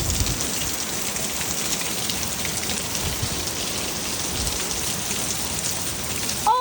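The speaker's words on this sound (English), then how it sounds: "Oh, it's hailing." Hail falling during a big storm: a steady, dense hiss of pellets pelting surfaces, loud and continuous without pause, with no voices over it.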